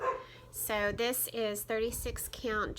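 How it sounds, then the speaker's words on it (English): A dog barks several times in quick succession close by, its sharp yips overlapping a person speaking indoors. "That's my dog."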